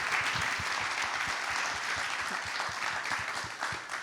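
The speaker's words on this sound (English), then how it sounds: "A big round of applause for Andi." Steady applause from a large audience at a sports summit, a dense, even wash of clapping that holds at constant loudness throughout.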